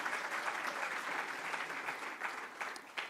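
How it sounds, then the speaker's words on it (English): Audience applause at a university founders lecture: steady, dense clapping from a sizable crowd, sustained at even loudness throughout with a few sharper individual claps near the end, no talking over it. "I think this requires a round of applause."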